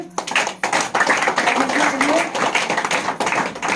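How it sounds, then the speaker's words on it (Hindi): A congregation at a Hindi-language live prayer meeting led by a pastor claps together. The steady, dense clapping runs throughout and blends with voices. "इस वचन के लिए हम लोग ताली बजाएंगे।"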